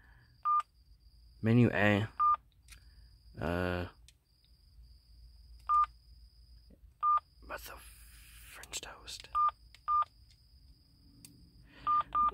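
An old Sprint mobile phone gives short electronic keypad beeps as its buttons are pressed, a scattered series of tones interspersed with a person talking nearby.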